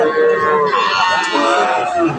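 Cattle at a livestock market, with harmonic lowing tones that sound like cows mooing close by amid dense crowd chatter and market noise throughout.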